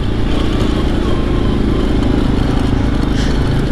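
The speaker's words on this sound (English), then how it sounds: "I hear the engine more because the exhaust is like kind of cut off" A loud, close Suzuki KingQuad ATV engine with its exhaust fallen off drones continuously with a rough, buzzing mechanical rumble, steady in pitch and volume throughout.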